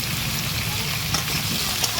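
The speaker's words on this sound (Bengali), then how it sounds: "তেলটা গরম করে আলুগুলো ভেজে নেব" Potatoes frying in hot oil in a wok for a village-style desi chicken curry, giving a steady, close sizzle that holds even throughout with a few brief stirring clatters.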